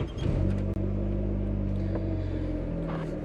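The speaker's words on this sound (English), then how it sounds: "Let's start the car." A car engine turns over near the start, then settles into a steady low idle rumble that carries on with a slight ripple.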